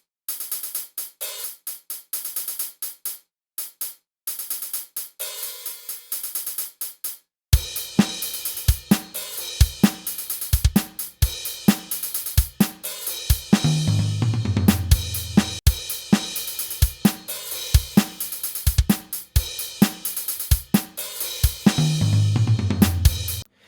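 Programmed drum samples with closed and open hi-hats sharing one cut group, so each hit chokes the last: a sparse, clipped hi-hat pattern first, then the full kit joining with steady kick, snare and cymbal hits.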